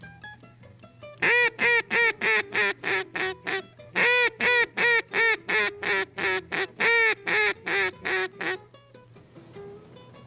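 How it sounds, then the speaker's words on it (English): A duck call blows a long hailing call of about eighteen loud, evenly spaced quacks, close and sharp, with a brief word spoken just before. "you just add a few sequences to that hailing call"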